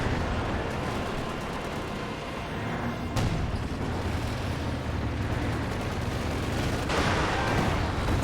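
Artillery barrage in a Company of Heroes World War II strategy battle, a continuous roar of explosions and shellfire that stays dense and loud throughout, with sharper blasts breaking through at intervals.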